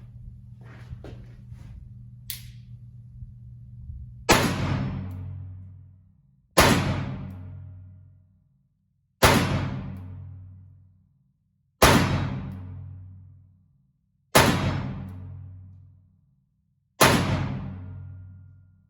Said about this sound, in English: So let's shoot some more steel.